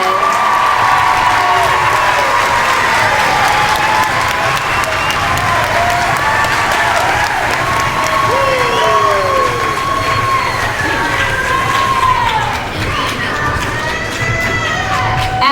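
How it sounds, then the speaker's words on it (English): Sustained applause from a ceremony audience at a high school letter of intent signing, loud and dense throughout with scattered cheers and voices mixed in. "Let's give them a big round of applause."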